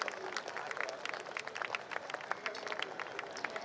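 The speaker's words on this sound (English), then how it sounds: "A huge round of applause for Mr." Audience applause at a steel plant formation day awards ceremony, a brief patter of clapping from a moderate crowd, fairly faint and without voices.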